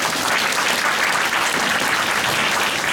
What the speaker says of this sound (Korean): 좋은 말씀 해주신 조합장님께 다시 한번 큰 박수 부탁드립니다.